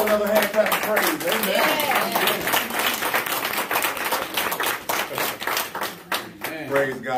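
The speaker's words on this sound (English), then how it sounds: "Give the Lord another hand clap of praise." Church congregation clapping hands in praise during a Sunday worship service, a dense run of sharp overlapping claps that continues steadily with a faint voice and music tones underneath.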